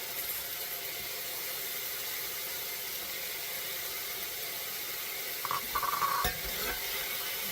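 Floured sticky pork stirred in a hot pan, with a steady sizzle and scraping stir running throughout, alone without talk, and a brief brighter burst of sizzling near the end.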